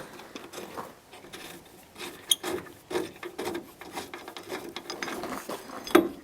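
A bolt is undone on an HJ45 car door during restoration, giving irregular ratcheting clicks and metallic scraping, with a sharp clank near the middle and another near the end, close by and moderately quiet with no talking.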